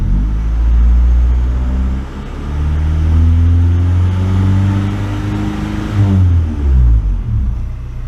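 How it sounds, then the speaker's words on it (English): Car engine revved while testing an RPM shift modification, a loud close rumble whose pitch climbs and falls across several rev cycles, rising again near the end. "I'm gonna rev it a little bit."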